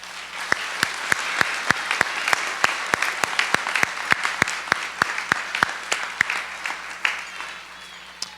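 Applause for four honorees at a college alumni recognition and hall of fame ceremony: moderate, steady clapping from a hall audience with a few sharp, distinct claps standing out, fairly quiet overall.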